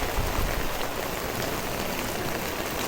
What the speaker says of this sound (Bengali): আজকে 3-4 দিন ধরে বৃষ্টি হইতেছে, সকাল থেকে বৃষ্টি।